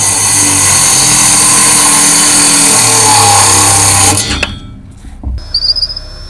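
A loud old NiCad Milwaukee cordless circular saw whines and buzzes through a cut for about four seconds, then spins down, leaving a few clunks and scrapes.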